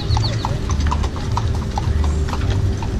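Horse hooves clip-clop at a steady rhythm as a horse-drawn buggy moves along a street in Fort-de-France, Martinique, loud and close, with a low hum of traffic behind.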